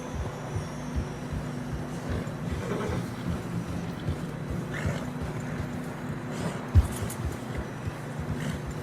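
Horse hooves plod through fresh snow on a narrow mountain trail in the Ambarino Mountains of Red Dead Redemption 2, a continuous rhythmic clip-clop with a low rumble underneath and one sharper knock near the end.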